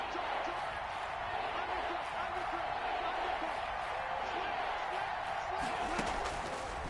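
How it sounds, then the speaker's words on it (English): Steady stadium crowd roar from a PS4 American football video game, a dense continuous wash of voices at constant loudness with faint whoops and claps mixed in, no clear speech on top. "That just means this crowd's going to get even louder"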